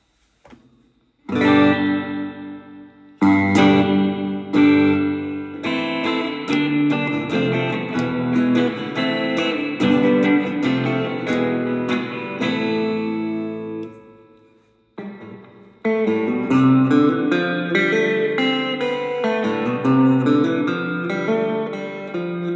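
A guitar played through a Donner Verb Square pedal on its plate reverb setting: chords and notes ring out with a lush, lingering tail. Playing pauses briefly near the middle, then resumes.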